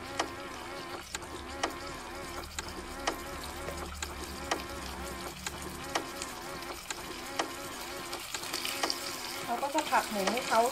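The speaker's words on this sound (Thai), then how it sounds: "นำลงไปผัดให้เขามีกลิ่นหอมแล้วก็เข้ากันก่อนสักพักนะคะ" Herbs and pork sizzle quietly while being stir-fried in a pan for a Thai kale stir-fry, with a steady crackle and regular scraping strokes of a spatula; a voice speaks faintly underneath.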